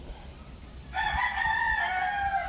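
A Rhode Island Red rooster crows loudly and close by, one sustained cock-a-doodle-doo starting about a second in and holding steady to the end, with no voices over it.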